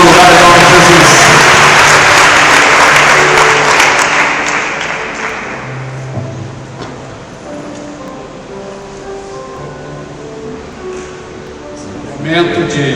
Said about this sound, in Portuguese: Dá uma aplauso ao Senhor